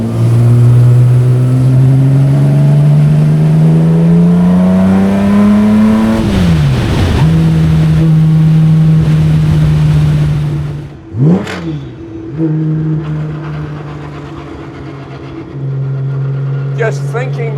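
A classic racing car engine, worth millions, roars loudly from the cockpit as it accelerates through the gears, pitch climbing then dropping at each shift, with a brief lift and rev blips before pulling hard again.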